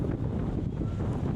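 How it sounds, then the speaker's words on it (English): Strong wind at a beach in Kamakura, Japan buffets the microphone in a constant low roar, with no other sounds breaking through. "It's really windy."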